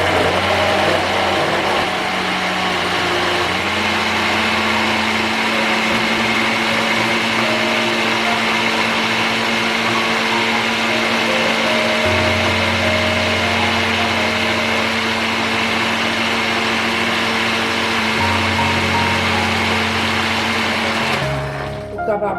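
An electric blender whirs steadily as it purees plantain porridge ingredients, a loud continuous motor drone that shifts pitch a few times before cutting off at the end.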